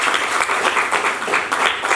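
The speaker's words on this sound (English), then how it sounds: "Please give him a clap, guys." Applause at a Foundation Day celebration as a guest is invited on stage, steady dense clapping from an audience for about two seconds without a clear break.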